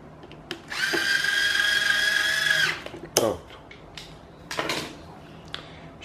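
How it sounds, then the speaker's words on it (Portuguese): An electric screwdriver drives screws into the motor cover of a Mondial VTX-40 Super Turbo fan, one steady whirring run of about two seconds, followed by a few short clicks and tool handling. "Se você vai usar a parafusadeira forte, você regula ela para ela não estragar os parafusos,"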